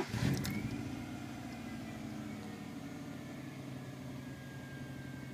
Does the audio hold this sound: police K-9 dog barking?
no